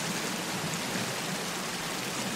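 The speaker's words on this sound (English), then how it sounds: "That is that the loud waterfall?" A loud waterfall in the Sons of the Forest video game roars as a steady, dense wash of rushing water, unbroken and close for the whole stretch, with no talk over it.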